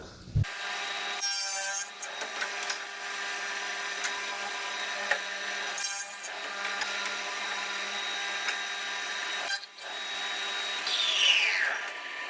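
A woodworking tenoning machine with top and scribe cutters runs through a timber cut for a solid external door, a steady whirring hum broken by several brief, harsh bursts of cutting, heard close with no talk.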